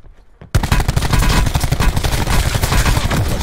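Black Ops Blackout hipfire: a sudden loud, close burst of rapid automatic gunfire starts after a short quiet moment and continues as dense, steady spray-and-pray shooting to the end, with no voices.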